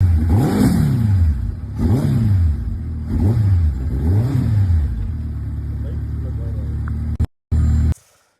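Suzuki Hayabusa motorcycle engine revved repeatedly, four rising-and-falling surges over a steady idle, loud and close, followed by a short cutoff and a final brief burst.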